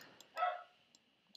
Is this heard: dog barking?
yes